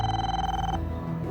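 A telephone rings loudly and close by, a steady electronic ring holding for most of a second before cutting off, with no voices.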